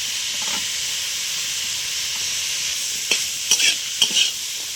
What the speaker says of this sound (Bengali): গাজরটা একটু ভেজে নেব। ক্যাপসিকামটা দিয়ে দিলাম,